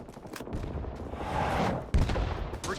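Rapid bursts of assault rifle fire in a Vietnam War combat game, sharp cracks mixed with distant battlefield rumble and a heavier close shot near the end, no talking.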